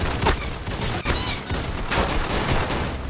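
Gunfire striking the player in the Roblox-style shooter Arsenal, a rapid crackle of shots and impacts with a brief whistling burst near the middle, moderately loud and unbroken.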